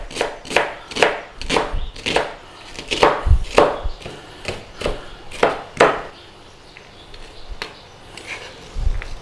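A knife chops through onions on a cutting board, sounding as a close, steady run of crisp taps that thins out and slows toward the end.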